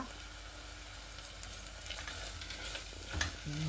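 Ginger paste ground with coriander seeds, cumin, cinnamon, cloves, cardamom, poppy seeds and cashews frying in a pan for a mixed vegetable curry, a steady close sizzle with stirring scrapes building toward the end.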